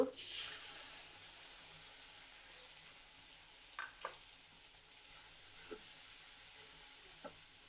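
Ground chili, coriander and turmeric powder with salt frying in a pan for a hilsa, potato and eggplant curry, a steady soft sizzle with a few faint stirring scrapes and knocks.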